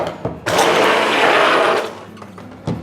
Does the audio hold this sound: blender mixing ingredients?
yes